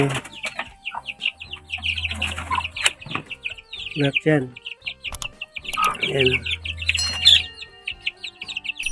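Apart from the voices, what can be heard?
chickens and chicks clucking and chirping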